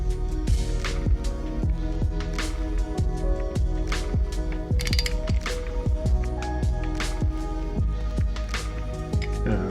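A ratchet wrench clicks steadily while tightening a cam sprocket bolt on a Suzuki GSXR1000 engine, a close, regular series of metallic ticks with a ringing tail after each stroke.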